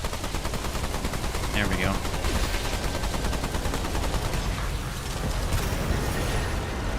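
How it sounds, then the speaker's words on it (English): Sustained machine gun fire in co-op Remnant 2 gameplay, a steady rattling stream of rapid shots that keeps going throughout, with a brief spoken remark over it early on. "Now we're gonna this time focus on just dealing damage with the machine gun."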